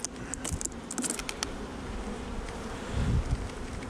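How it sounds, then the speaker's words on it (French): Honeybees buzz at an open hive, a steady close drone with busy overlapping wingbeats and a few sharp clicks and taps throughout. "Allez les mouches à miel."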